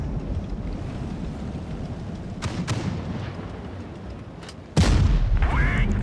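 Tank cannon shots in World of Tanks Blitz ring out amid a low engine rumble: one sharp blast around the middle and a louder, heavier boom near the end, both followed by a decaying rumble.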